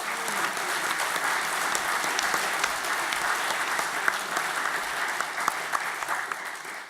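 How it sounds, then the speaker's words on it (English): A conference audience at a UKIP party event bursts into sustained applause, a dense even clapping from a large crowd that holds steady for several seconds with no talk over it. "I like that I get the clap for that"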